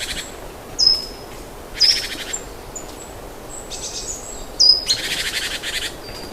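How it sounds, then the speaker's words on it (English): A blue jay gives several short, bright calls in bursts over a steady hiss of insects or jungle ambience, mid-distance and clear against the background. "This is the blue jay, bright feathers, loud voice, and full of attitude."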